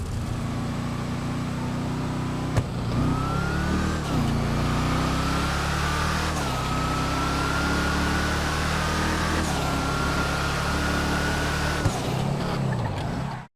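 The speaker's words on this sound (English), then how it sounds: "when you start accelerating, the supercharger whine just gets like equally as loud as the car exhaust" GTA Online Hellfire muscle car accelerating, its supercharger whine rising as loud as the exhaust; a steady, close, loud engine drone with a climbing tonal whine and brief shift dips throughout, no talk.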